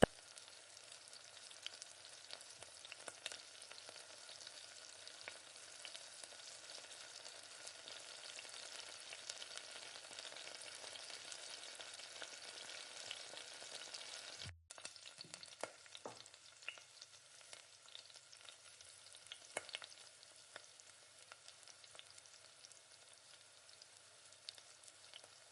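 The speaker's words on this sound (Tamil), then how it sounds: "ஒரு 2 நிமிஷம் 3 நிமிஷம் அப்படியே தக்காளியை நல்லா வதக்கி விட்டுக்கிட்டே இருங்க" Tomatoes for a fish curry are sautéed in a pan, giving a soft, continuous sizzle with scattered crackles and a few scraping stirs, faint and steady throughout.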